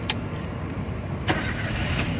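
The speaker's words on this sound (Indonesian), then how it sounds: "sekarang kita coba nyalakan mobil" A 2014 Toyota Avanza 1.3 G manual starts up close: a short starter crank catches and the engine fires with a loud burst, then settles into a steady idle.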